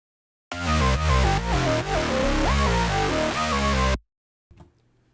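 Beat melody from a self-made track, with triplet rhythms and an octave line that walks downward over thick layered chords and bass, playing loud for about three and a half seconds before stopping abruptly, followed by a faint brief noise.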